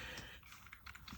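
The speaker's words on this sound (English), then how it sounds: "the typing sound, or the noise that this keyboard makes, is almost nothing" A computer keyboard with adjustable tilt legs is typed on very softly, a faint rapid patter of muted key presses close up under a steady hiss, with no voices.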